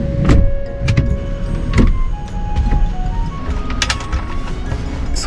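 A sofa is folded out inside a Toyota Town Ace camper van, giving a series of close knocks, clunks and mechanical clicks spread unevenly over a few seconds, with faint background hum.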